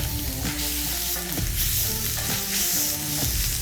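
Water boils and sizzles loudly on a hot flat top griddle while a metal scraper grinds across the surface in repeated strokes to clean it.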